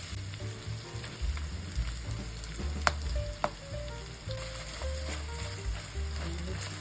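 Tomato paste sizzles as it is stirred into sautéing ground meat for a Filipino giniling and potato dish, a steady close frying hiss with scattered clicks of the spatula against the pan.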